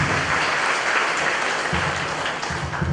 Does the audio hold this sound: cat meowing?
no